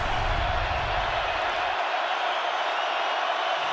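A packed stadium crowd roars loudly and continuously at a 2018 NFL game in Seattle between the Seahawks and the Chiefs, a dense wall of cheering that holds steady throughout.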